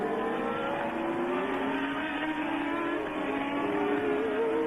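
Formula One race cars at the Dutch Grand Prix, several engines screaming together at high pitch with rising and falling revs, a continuous sustained roar with no pause.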